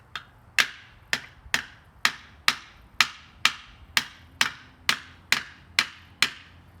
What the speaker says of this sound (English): the sound of hammers and nails on Good Friday.